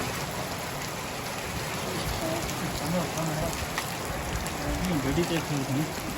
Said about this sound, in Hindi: हाँ है ओले पड़ रहे हैं छोटे छोटे।